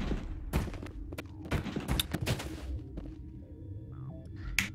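A grenade explodes amid gunfire in the Mass Effect video game, producing a cluster of sharp booms and thuds packed into a few seconds, fairly faint against the game's backdrop.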